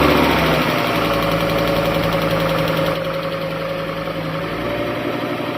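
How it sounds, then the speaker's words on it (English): A rebuilt Fiat Stilo Abarth 2.4 five-cylinder engine, Michael Schumacher Edition, running close and loud with a steady idle and an uneven, slightly knocking rumble. "see if this Abarth engine will start up"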